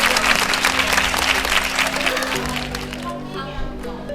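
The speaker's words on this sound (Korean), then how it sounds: "박수!" A crowd applauds loudly at an outdoor stamp-rally raffle drawing for a Backyard Builder motorcycle meetup on Yeongjong Island. The clapping fades out after a few seconds under a steady hum, and a voice follows.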